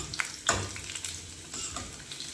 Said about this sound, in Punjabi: ਇਹ ਜੀਰਾ ਪਾ ਲੈਨੇ ਆ ਫਿਰ ਆਪਾਂ ਪਿਆਜ਼ ਪਾ ਲਾਂਗੇ ਜੀ